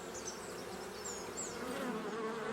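Honey bees foraging among blossoms make a steady, close buzzing hum that carries on without a break for the whole stretch, with no voices.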